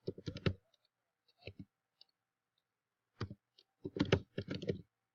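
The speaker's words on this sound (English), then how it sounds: "we'll just type it here" Computer keyboard being typed on in short bursts of quick clicks separated by pauses, close and crisp in an otherwise quiet room.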